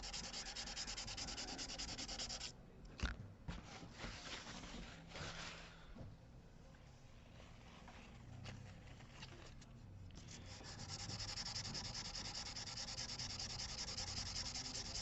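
Hand sanding on an acoustic Yamaha guitar neck during repair, steady rubbing strokes running continuously and close, with a brief pause and thump near the middle before the scraping resumes.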